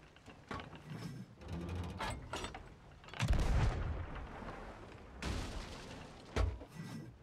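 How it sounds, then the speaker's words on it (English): Cannon fire in the pirate video game Sea of Thieves, heavy booming blasts repeating at irregular intervals with a long rumbling burst near the middle, set against game clatter. "Bring them into my cannon fire!"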